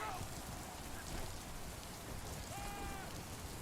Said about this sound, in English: This rain almost sounds like bacon sizzling in the skillet.